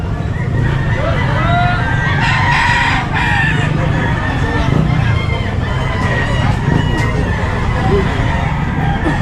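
Chickens cluck and a rooster crows amid a busy, noisy pet market atmosphere at Grotto with people chattering in the background.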